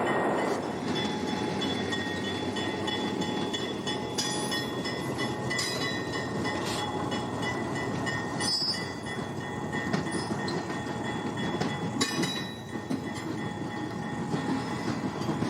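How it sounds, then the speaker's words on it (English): A former Delaware and Hudson Alco RS-11 or RS-36 diesel locomotive hauling a train past near Lake Erie, a continuous heavy rumble of engine and rolling cars with intermittent metallic clanks and squeaks, close and sustained. "Today's power is a former Delaware and Hudson Alco RS-11 or RS-36"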